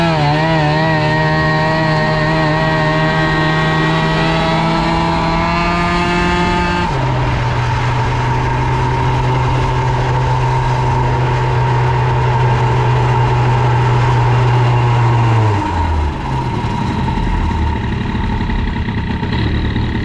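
A boosted 70cc Airsal CPI GTR moped engine with a 15 Phbg carburetor and aluminum pulley runs loud and close, holding a steady buzzing tone. Its pitch drops twice as the revs change, then settles lower.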